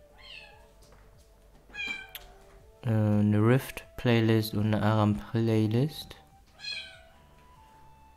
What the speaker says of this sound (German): Ihr hört im Hintergrund, meine Katze will ins Zimmer.